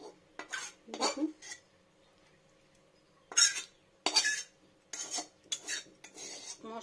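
Utensil scraping thick spiced masala around a pan, in several separate bursts of scraping and clinking against the metal with short pauses between, close and moderately loud.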